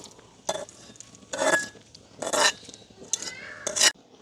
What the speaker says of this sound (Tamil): இப்போ நாங்கள் தாளிப்பை வந்து முள்ளங்கி பருப்பு கறியோடு சேர்த்து விடுவோம்